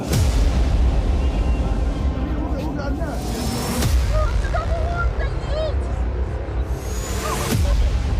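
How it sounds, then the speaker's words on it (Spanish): Heavy booms and rumbling blasts of wartime gunfire and explosions near Donetsk, Ukraine, distant and repeated, over constant low noise and background voices, with sharp reports near the middle and end. "Seguimos escuchando los disparos, las explosiones en la cercanía de la ciudad de Donetsk."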